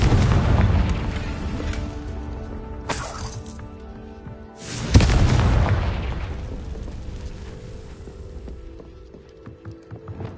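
A Confringo blasting spell bursts in the Hogwarts video game with a loud shattering explosion, followed by a second sharper blast whose rumbling debris slowly fades over several seconds.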